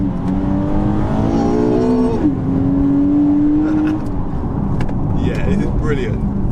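A modified Nissan 370Z engine revs hard through first gear, its pitch climbing steadily before a brief drop and further pulls, loud and close inside the car with someone talking over it.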